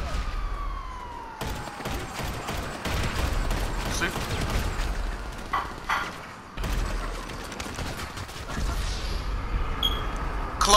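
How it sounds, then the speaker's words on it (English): Sustained rapid gunfire from a minigun in a multiplayer shooter game, a dense continuous roar with siren-like whine, loud and nearly unbroken across the clip with brief dips. "Nah, he got this minigun shooting."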